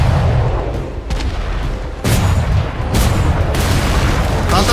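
Ship cannons boom repeatedly in a naval combat game, several heavy thuds and sharp blasts spaced irregularly over a rumbling battle background, with players' voices talking in between.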